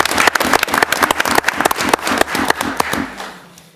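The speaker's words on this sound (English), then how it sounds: "let's give her a round of applause" An audience applauds a teacher being honored at a school event, a close, loud burst of dense hand clapping with sharp individual claps that thins and fades out toward the end.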